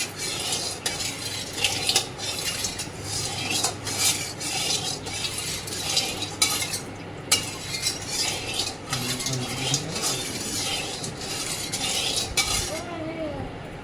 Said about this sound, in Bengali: নুনটাকে ভালো করে তেলের মধ্যে মিশিয়ে নেবো।